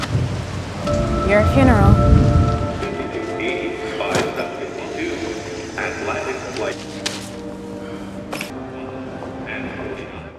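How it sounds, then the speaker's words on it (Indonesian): Heavy rain pours steadily while thunder rumbles loudly at the start, then the downpour continues with a sharp knock and tonal music-like hum over it; a voice speaks briefly. "Hujan yang deras menambah kegalauan Hasan"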